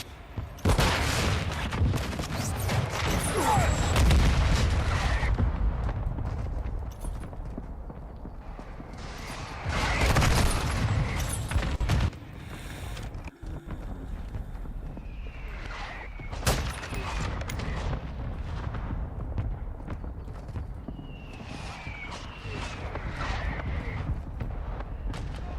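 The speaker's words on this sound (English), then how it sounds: "Friendly mortar strike." Friendly mortar strike in a military shooter game, heavy rumbling explosions and booms landing at intervals over a long stretch, mixed with gunfire, mechanical clanks and occasional radio-style voice callouts.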